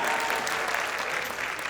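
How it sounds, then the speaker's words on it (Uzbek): A concert audience in New York applauds, dense and steady clapping from a large crowd throughout, loud and continuous with no pauses. "Mirjonga bitta chiroyli qarsak bo'lsin"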